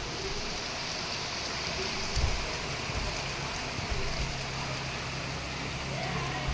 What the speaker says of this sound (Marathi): आपल्या खिडकीतनं पाऊस दिसतोय.